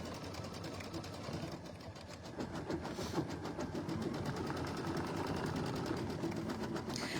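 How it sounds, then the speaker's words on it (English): An embroidery machine stitches a design with a steady, rapid mechanical whirr and tapping needle rhythm, running continuously at close range with faint room noise. "You can look while it stitches."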